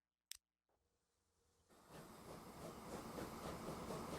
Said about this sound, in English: now that the trains are running